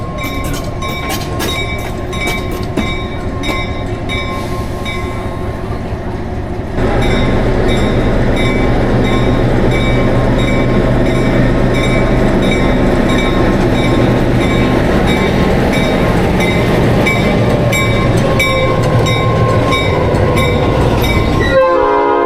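A Black River & Western Railroad locomotive pulls away: a horn sounds, then the engine's heavy rumble swells louder and holds steady, with wheel clatter and a brief squeal near the end.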